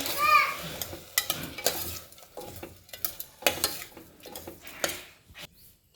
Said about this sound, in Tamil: பட்டாணி சேர்த்துட்டு இதுவும் ஒன்று நல்லா கலந்து வச்சுக்கோங்க